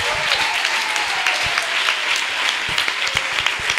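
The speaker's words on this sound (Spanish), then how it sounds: "Démosle ese aplauso mejor," Church congregation clapping in a temple, close and loud, a thick burst of many hands with some sharp individual claps standing out, sustained throughout without talk.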